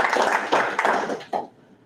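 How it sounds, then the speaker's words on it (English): A short burst of hands clapping from a small audience at a school board meeting, a few seconds of scattered claps that taper off and stop abruptly into quiet. "Just give them a round of applause."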